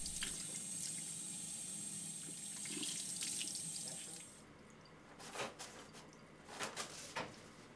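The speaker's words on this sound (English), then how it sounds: "Rinse hands well under clean running water at a comfortable temperature." Tap water runs steadily into a sink as hands are rinsed, a continuous hiss that stops partway through, leaving a few soft splashes and drips.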